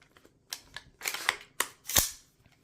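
An AR-15 rifle's ambidextrous bolt release is pressed, and the bolt slams home in a few sharp metallic clicks and snaps, close and dry, spaced over a couple of seconds with quiet in between.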